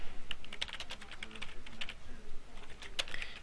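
Fingers type on a computer keyboard while entering a title in Word 2010, producing a steady, close run of rapid key clicks and clatter with no pauses.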